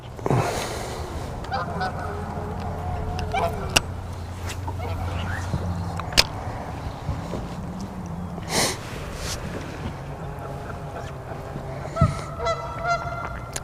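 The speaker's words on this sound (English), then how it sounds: "At that time of year, those geese are going to start fighting." Geese honking and squabbling near water in March, repeated nasal honks and harsh calls at moderate distance, mixed with hissing snorts, while a person talks over them.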